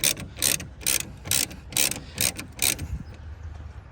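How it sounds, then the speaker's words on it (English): Brake caliper slider pin bolts are loosened at the rear of a 2016 Ford Escape with a hand ratchet, giving a quick series of about seven sharp clicking bursts, close and fairly loud, then fading. "Remove the two bolts, the slider pins."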